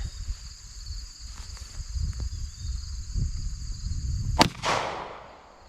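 A single sharp 9mm shot from a Norma Safeguard hollow point round cracks out near the end, preceded by quiet outdoor ambience with insects buzzing and followed by a brief decaying echo.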